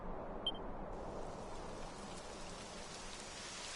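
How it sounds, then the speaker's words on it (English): Steady rain starting up in the video game Dragon Quest XI, a dense, even hiss of falling rain and drops on surfaces that holds constant and fairly close throughout, with no talk. "It would have to go and start raining, wouldn't it?"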